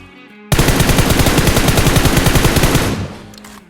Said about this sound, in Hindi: गोली चल गई